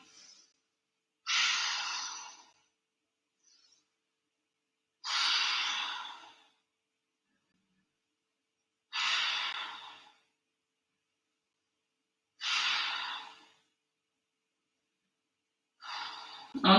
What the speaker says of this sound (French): Faites du bruit en respirant avec votre gorge.